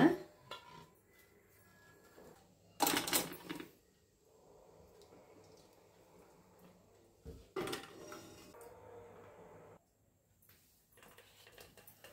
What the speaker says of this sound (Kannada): ಕುಕ್ಕರ್ ತೆಗಿಯೋಣ